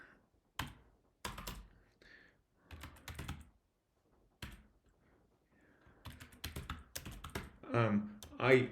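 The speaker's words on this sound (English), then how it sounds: "I'm typing it." Rapid clicking of computer keyboard keys in bursts with pauses, close and fairly loud, while someone codes a programming puzzle solution; no speech over the typing.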